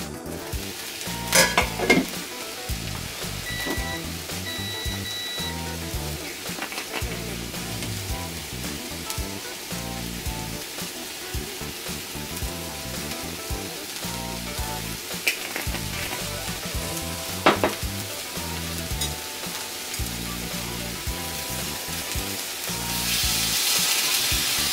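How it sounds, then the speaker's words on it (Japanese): Food frying in a pan for a home-cooked lunch, a steady close sizzle with occasional stirring and utensil clinks, continuous throughout with no talking. "もうだいぶ焼けてきたんじゃないかな。"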